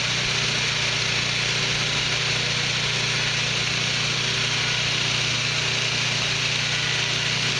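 Belt sander set up for knife grinding and flat-grinding blades, running steadily with a loud, constant motor hum and belt whir, no pauses and no talking.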